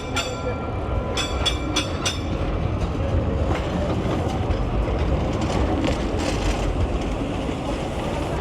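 A train rumbles and rattles continuously at Roma Termini station, a loud steady rolling noise with a few sharp metallic clicks early on.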